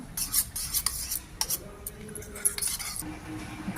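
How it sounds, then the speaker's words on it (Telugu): A metal spoon scrapes and clinks against a pan as chili powder is mixed into an okra curry, close and busy with short irregular strokes. "రెండు స్పూన్లు కారం బాగా మిక్స్ చేసుకోవాలి"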